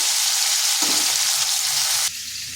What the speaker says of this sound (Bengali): এবার আলু আর কাঁকরোলটাকে ভালো করে ভেজে নেব